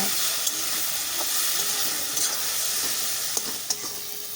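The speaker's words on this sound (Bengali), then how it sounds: "টমেটোটা ভালোভাবে সেদ্ধ হয়ে আসলে আমি এর মধ্যে একটু একটু করে জল দিয়ে মশলাটাকে ভালো করে কষিয়ে নেব" Spice paste with chopped tomato fries in a pan as small splashes of water are added, giving a steady, loud sizzle with bursts of steam hiss and a few faint clicks of a stirring spoon, with no voices.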